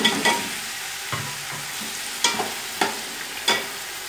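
Chicken pieces frying in a pot for murgh pulao, a continuous sizzle broken by several sharp scraping stirs of a spoon against the pot, close and fairly loud, with no talking.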